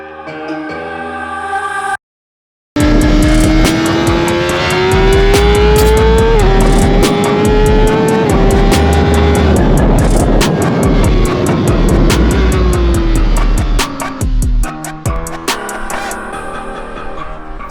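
A Honda CBR600RR supersport motorcycle screams around the Portimao race track, its high-revving engine loud and close as it climbs through the gears with sharp upshifts, broken only by a short dropout near the start.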